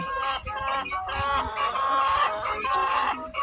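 Chickens cluck steadily and loudly inside a chicken house, a dense overlapping chorus of close hens with no talk.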